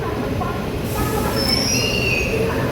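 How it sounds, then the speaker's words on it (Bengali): A night local train from Kharagpur toward Belda gives a loud, continuous rumble from inside the car, with high metallic wheel squeals rising partway through. "ট্রেন অলরেডি প্ল্যাটফর্ম থেকে বেরিয়ে গেছে"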